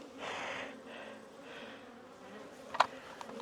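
Honey bees swarm around an opened hive during fall beekeeping, a steady close buzzing that swells and fades in waves, with a few sharp brief bursts as bees fly at the camera.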